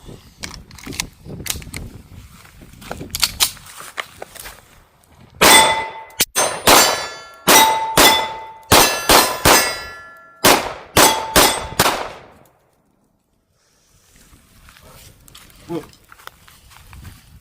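Shots from a Kimber 2K11 pistol ring out on steel targets in two strings: a few sharp cracks early, then a rapid volley of about eight loud metallic clangs, with quieter sounds trailing after a pause.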